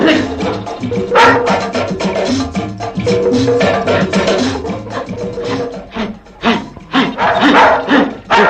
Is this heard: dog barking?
yes